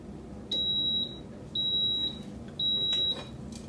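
Waffle iron signalling it has finished cooking, three evenly spaced high electronic beeps of about half a second each over a low kitchen background hum.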